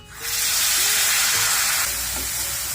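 Masala sizzles loudly in a frying pan with a splash of water while beef kala bhuna is cooked, a steady dense hiss with faint stirring and scraping, no voices.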